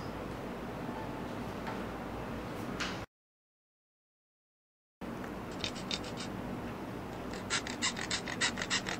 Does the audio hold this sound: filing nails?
yes